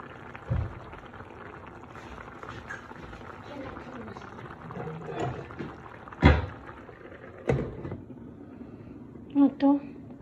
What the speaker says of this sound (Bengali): 2 মিনিটের লাগে ঢাকনা দিয়ে ঢেকে রেখে দিলাম।